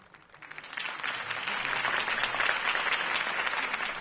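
Steady crowd applause in a video game rising from a light patter into dense, sustained clapping from many hands, fairly distant and even.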